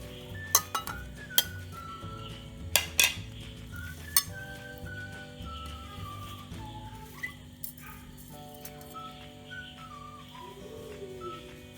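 Spoon stirring and clinking in a bowl as chicken kebab marinade is mixed with green chillies, coriander, mint and lemon juice. The taps are sharp and intermittent over faint background music.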